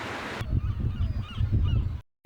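Seagulls call loudly and close by along the St Ives harbourside, honking cries repeating over about two seconds before cutting off.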